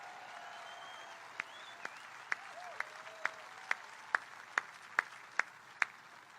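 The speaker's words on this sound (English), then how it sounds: "Let's give a round of applause to David." Rally crowd in Pennsylvania applauds a man named David: soft crowd murmur with sharp, evenly spaced claps ringing out roughly twice a second, faint and distant overall.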